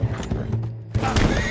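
Horse galloping in the Arthur Morgan game, hoofbeats pounding in a quick irregular rhythm, close and loud, with a short lull before the thudding resumes; no talk.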